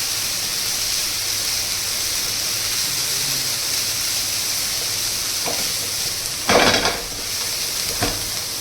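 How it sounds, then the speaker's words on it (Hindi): Vegetables for veg fried rice stir-frying in a pan, giving a steady loud sizzle throughout, with a few brief scraping and clattering stirs near the end and no talking. "इसको ऐसे फ्राई कर लेंगे।"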